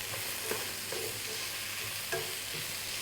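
Kumara pieces frying in a pan on turned-down heat, a steady close sizzle with a few soft scrapes of stirring through.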